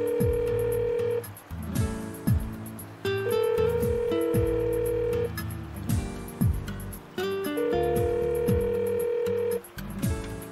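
An unanswered telephone call rings on with electronic tones repeating in regular cycles and brief gaps between them, loud and clear with no voice answering.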